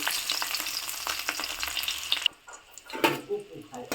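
Duck eggs fry in oil in a wok with a steady bright sizzle that cuts off abruptly partway, followed by quieter scraping and faint crackle.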